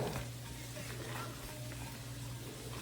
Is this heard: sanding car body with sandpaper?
no